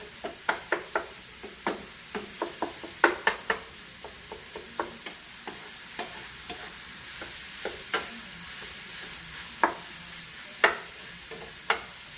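A flat straight-edged spoon chops and breaks up ground pork cooking for a sugo in a pan, sharp irregular knocks and scrapes against the pan over a low constant sizzle, no talking.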